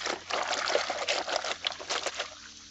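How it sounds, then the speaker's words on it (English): White jeans are sloshed and shifted in a tub of cold wash water during hand washing, a run of close splashing and dripping bursts that trail into quieter trickles. "Moving this out of the water and put it in this second water here."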